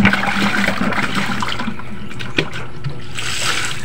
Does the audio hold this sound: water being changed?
yes